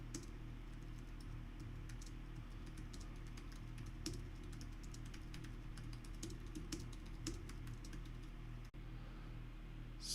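Steady, rapid clatter of keys on a computer keyboard during a timed typing test, close and continuous with small irregular bursts and no talk.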